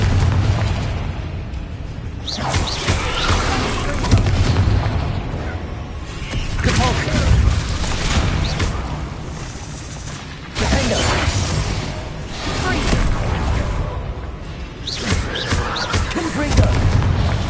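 Repeated Confringo blasting spells explode during combat in Hogwarts Legacy, a series of heavy booms and shattering bursts every couple of seconds over dense battle noise, with a voice speaking at times.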